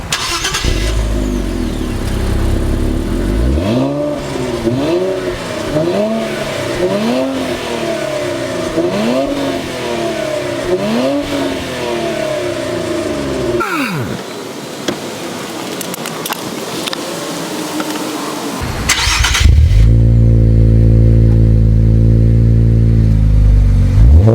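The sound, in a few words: Infiniti Q50 with aftermarket exhaust revving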